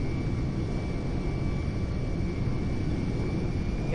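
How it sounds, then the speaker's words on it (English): A large plane's engine from the game GTA V drones steadily and close, a constant roar with a faint high whine and no pauses. "This plane doesn't even fit in this starting area."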